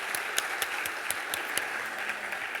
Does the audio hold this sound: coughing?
no